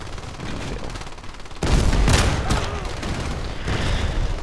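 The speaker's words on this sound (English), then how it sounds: "So, that's the grenade launcher nothing at all like Battlefield 2" XM-25 grenade launcher fired in a video game, a sudden loud blast with a booming, gunfire-like burst that rings on amid ongoing in-game noise.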